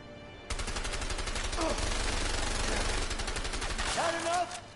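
Rapid automatic gunfire from the video game A Way Out rattles continuously for several seconds, dense and loud, with a voice briefly heard under the shots.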